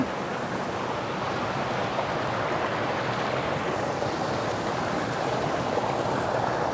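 A tiered waterfall spills down a mountainside in the countryside of Rayong, Thailand, a constant, loud rushing hiss of falling water with some wind buffeting the microphone and no pauses.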